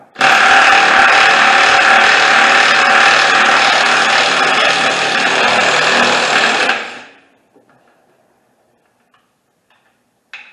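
A 3/8-inch impact wrench loosening bolts on a 1974 MGB GT during a parts swap, one loud continuous burst of about seven seconds that then cuts off, leaving near silence with faint shop clicks.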